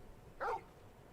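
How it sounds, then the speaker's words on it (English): A dog in the Final Fantasy XVI video game gives one short, faint bark over a quiet game background. "Oh, hey, that's our dog."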